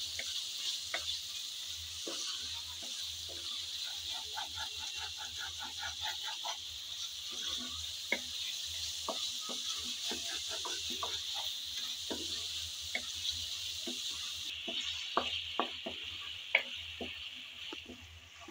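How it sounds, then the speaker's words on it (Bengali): Spices, tomato and chopped taro stir-fry in a pan with a faint, steady sizzle. Scattered spatula scrapes and light taps come and go throughout. "আমি বেশ কিছুক্ষণ যাবৎ নেড়ে চেড়ে মশলাটাকে কষিয়ে নিচ্ছি।"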